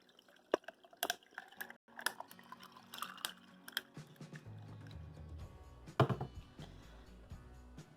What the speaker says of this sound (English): And you're just going to pour it in.